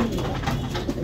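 A native Bengali dove kept alongside pigeons coos softly at close range, a low throaty call repeated over a steady murmur of background noise.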